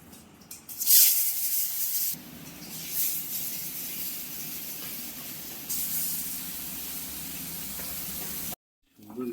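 Hilsa fish fry in mustard oil in a wok, a loud burst of sizzling followed by a steady spitting hiss that cuts off abruptly near the end.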